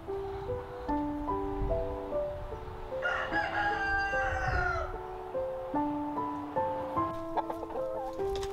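Chickens and two roosters in their coop: hens cluck in rapid, overlapping bursts while a rooster crows loudly partway through, close and continuous.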